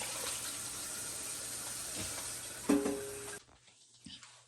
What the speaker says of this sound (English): I'll probably put a little bit more water